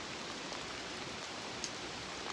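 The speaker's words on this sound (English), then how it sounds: "pretty potent lake effect rain band here in Oswego" Lake effect rain from a potent band falls steadily in Oswego under light, variable wind, a dense even hiss of drops with one brief sharper patter, continuous and alone.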